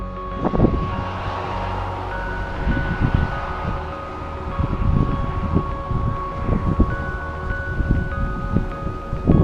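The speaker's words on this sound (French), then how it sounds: "Il vente fort, c'est terrible. Je suis sur le bord de la côte" Strong wind on a coastal cape in Japan roars and buffets the microphone in heavy, uneven gusts, with a deep continuous rumble throughout and no voices.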